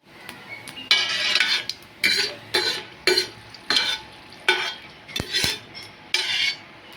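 Dried red chillies fry in oil with mustard seeds for a dhaba-style Kathiyawadi gathiya curry, sizzling steadily under a regular rhythm of loud metal spoon scrapes and clinks against the pan, close up, with no speech.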